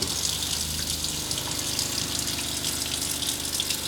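An RV's fresh-water pump hums and rattles steadily while the faucet runs at medium flow, with a continuous close hiss of water throughout.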